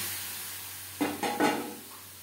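Potatoes tossed with salt fry in a pan for a traditional Bengali aloo mutton curry; a faint background hiss is broken by three quick, close scraping stirs, each followed by a brief burst of sizzle.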